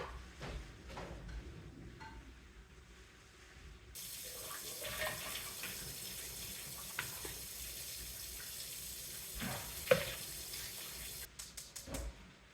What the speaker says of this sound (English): I need to drain and rinse these cans of vegetables